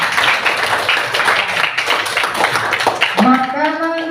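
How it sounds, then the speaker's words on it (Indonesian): Classroom students clap together in a brisk, crowded burst for about three seconds, and then a voice starts talking as the clapping dies away. "Oke, berikan tepuk tangan untuk teman kita."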